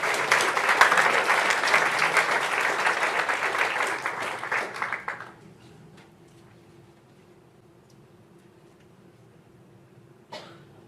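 Applause from an audience at a combined public meeting, honoring school district employees including a custodian for 25 years of service; steady clapping for about five seconds, then it stops abruptly, leaving quiet room tone with a brief knock near the end.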